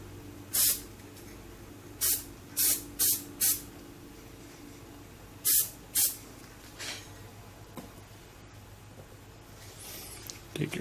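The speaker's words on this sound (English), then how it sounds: "I just took the Elmer's glue spray paint, or the spray adhesive actually," A can of Elmer's spray adhesive sprays in short bursts, about six sharp hisses spaced irregularly, close by, followed by a few fainter sprays and quiet handling.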